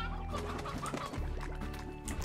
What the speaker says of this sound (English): Since there's a bunch of stony hens here as well, I'll go ahead and feed you guys.